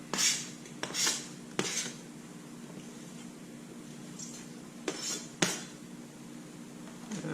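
A knife chops jalapeno on a cutting board while preparing ceviche, giving a handful of sharp, irregularly spaced knocks with quiet stretches between them and no talking.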